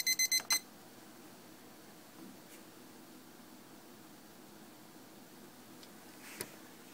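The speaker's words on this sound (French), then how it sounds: "Une fois que le minuteur sonne" A laboratory timer alarm sounds during work with an Agilent Bioanalyzer. It gives four quick, clear beeps at the start, then falls silent under a faint, steady room hiss.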